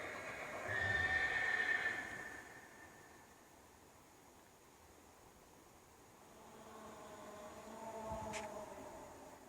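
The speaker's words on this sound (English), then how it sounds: "I'm going to play one of the horse sounds" A horse whinnies at a horse camp, a faint, distant neigh near the start, followed by quiet outdoor ambience and a softer, low call later.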